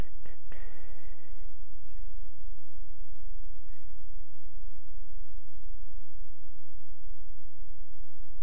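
Cat meowing briefly near the start, a short tonal cry over a steady low hum, followed by quiet background noise for the rest.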